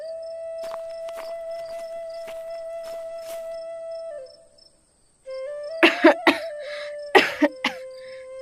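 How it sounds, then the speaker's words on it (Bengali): A cartoon girl coughs in a cluster of short, sharp, voiced bursts after a stretch of calm background music, the coughs loud and close over a sustained tone. "আমার খুব কাশি হচ্ছে"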